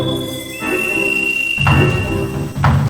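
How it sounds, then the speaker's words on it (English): A thin, high, steady whistling tone from the dwarf minigame in Disney's Villains' Revenge holds for most of the clip, joined by two short bursts of other game sounds. "This whistling sound was horrible with headphones on"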